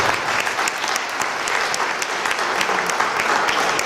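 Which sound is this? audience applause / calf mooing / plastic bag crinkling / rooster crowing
audience applause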